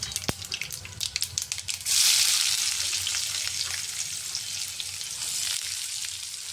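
Cumin, mustard seeds and curry leaves dropped into hot oil, a few crackles and pops followed by a sudden loud, sustained sizzle that slowly settles, close by.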